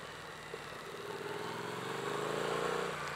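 A 2017 Triumph Street Twin motorcycle engine runs steadily and close, its throaty drone slowly rising in pitch as it pulls along without any speech.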